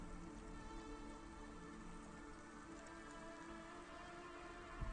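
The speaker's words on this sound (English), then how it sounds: "Don't let all the rain get you down." Steady rain falls in the neon city of the video game CloudPunk, a constant dense hiss of drops on surfaces, soft and even with no voices over it.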